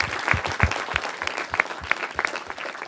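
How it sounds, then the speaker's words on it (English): Audience applause for two speakers at the close of a talk on water, a dense burst of clapping that holds steady and close for the whole stretch, with no voices over it. "can we have a very big round of applause for our two speakers?"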